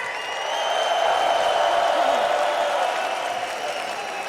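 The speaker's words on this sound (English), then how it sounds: "Guys, a round of applause once again for Caps." An esports audience applauding at the 2019 LEC Summer playoff finals: steady clapping that swells over the first second and holds evenly, a dense wash of hands with no single voice standing out.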